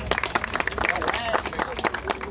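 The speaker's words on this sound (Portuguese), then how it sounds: "Vamos aplaudir o rapaz, vamos, gente." Audience clapping at a comedy show in Fortaleza, with dense sustained applause mixed with crowd babble and a voice talking over it throughout.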